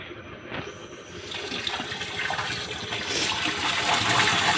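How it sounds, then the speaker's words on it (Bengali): Water gushes from a 2-horsepower solar pump with a 3-inch delivery pipe, a loud, rushing splash that swells steadily as the flow strengthens. "পানি কিন্তু অনেক পানি উঠছে, আরও পানির গতি হবে"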